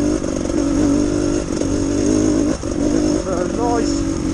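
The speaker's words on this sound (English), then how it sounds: "We've got Richard, Dave and Stuart on their long range trials bikes." Long-range trials motorcycles ridden on Welsh green lanes, a steady engine drone running throughout with slight dips and surges, fairly loud and close, with voices talking over it.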